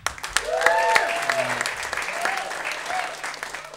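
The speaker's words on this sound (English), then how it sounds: "And how about a round of applause for Michi?" A comedy club audience claps for a stand-up comic, a steady round of applause lasting a few seconds with a few cheers and whoops mixed in.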